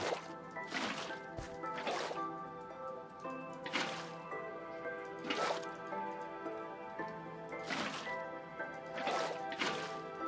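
Running water in Minecraft, a soft continuous trickle with repeated drippy splashes and squishy pops at irregular intervals, moderately quiet and with no talk over it.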